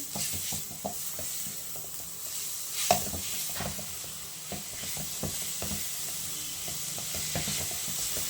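Grated coconut and jaggery filling for ragi modak is sautéed in a pan, with a steady sizzle and frequent rhythmic scrapes and taps of the spatula against the pan, close and moderately loud.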